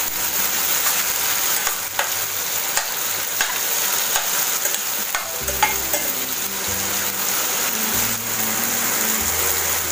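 Tomatoes sizzle and fry steadily in a hot pan, with a spoon stirring and scraping now and then; close and continuous, no talking.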